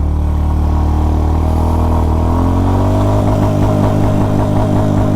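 A Honda CB350 RS motorcycle pulls away in first gear, its engine note climbing steadily as it accelerates, loud and close, with a thudding exhaust pulse growing stronger toward the end.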